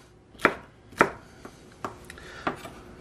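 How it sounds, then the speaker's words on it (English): A knife slices through food on a cutting board in five distinct chops, two loud and three softer, spaced about half a second apart in a quiet room. "Cut each side to ½ inch slices"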